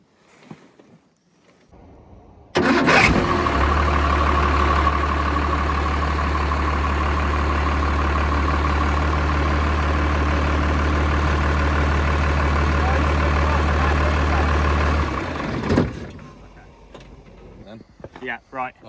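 A Cummins diesel engine in a limo cranks and catches, then idles loudly and steadily for about twelve seconds before shutting off, with faint sounds before and after.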